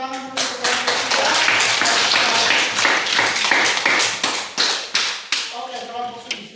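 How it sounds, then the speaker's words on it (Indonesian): Classroom applause for a student group, a burst of many hands clapping and tapping close by, loud and steady, then thinning into a few scattered claps at the end. "kita tepuk tangan dulu untuk kelompok 3"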